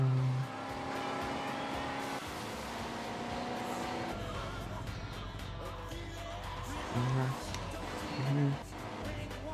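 A car engine drones and shifts pitch while driving in GTA Vice City Stories on PS2, with gear changes, brief surges and tire noise, mixed under a man's speech and background game sound.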